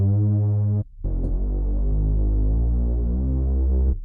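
Dirty reese bass built from two detuned saw waves with a filter, a thick, loud, throbbing low drone that cuts out briefly, then returns and holds steadily before stopping.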